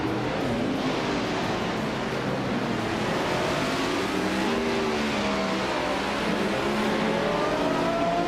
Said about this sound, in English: X Ragnaroks is driving a 1970 Chevrolet Camaro in the vintage Trans Am Classe de Tuja